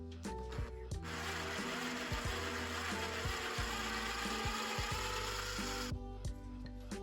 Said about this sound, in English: And then I sanded down the inside so it was a very tight fit for the quick release fitting.